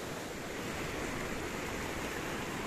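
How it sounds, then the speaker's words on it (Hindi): Ocean waves wash continuously onto the shore at Ross Island in the Andaman Islands, a dense, steady surf roar close by, with no voices and no clear breaks between waves. "पीछे लहरों की आवाज़ ही ज़रा सुन लीजिए आप"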